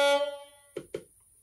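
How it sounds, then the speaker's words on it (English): A DCC sound decoder in an Accurascale OO gauge DRS class 37 model locomotive plays a short, low air-horn blast that fades within half a second. Two small sharp clicks follow. "13 is the low air horn,"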